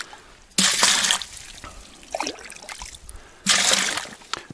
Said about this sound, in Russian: Я могу набирать воду кружкой.